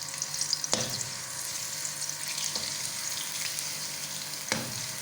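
Garlic-ginger paste frying in a pan with onions already browned, giving a steady close sizzle throughout with a few sharp clinks of a utensil stirring.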